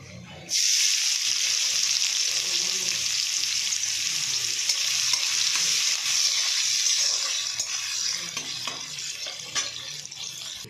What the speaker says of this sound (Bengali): এখানে তেল দিয়ে দিয়েছি কড়াইতে, আর পেঁয়াজটা দিয়ে দেবো